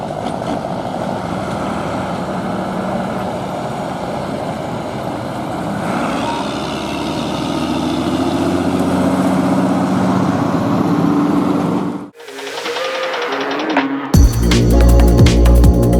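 Vintage Renault tractor engines run in a steady, loud, rumbling drone for most of the stretch, then cut abruptly into different, harsher mechanical noise near the end.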